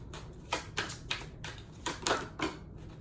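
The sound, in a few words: shuffling a deck of tarot cards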